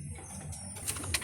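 Pigeons kept for breeding coo softly in a loft, with a few faint low calls and light rustles, heard at modest volume with no talking.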